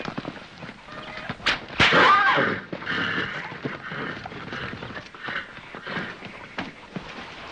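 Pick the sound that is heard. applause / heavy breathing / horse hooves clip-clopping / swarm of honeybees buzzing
horse hooves clip-clopping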